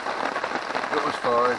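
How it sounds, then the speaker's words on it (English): Steady rain falls, a constant patter on surfaces, with a person talking briefly over it. "it's a steady rain, and then, I'm assuming we're going to get heavier rains as the day goes on"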